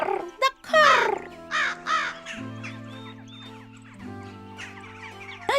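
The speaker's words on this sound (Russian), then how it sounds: "А она в ответ все кар да кар." A crow caws in an animated cartoon about animals, a few harsh, separate calls heard close over a background music score.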